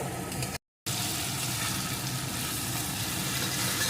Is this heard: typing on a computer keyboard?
no